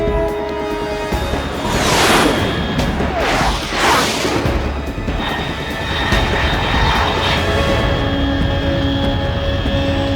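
Military aircraft roaring overhead in the video game Metal Gear Solid 3, with broad jet-like swells rising and passing over about ten seconds, loud and continuous, no talking.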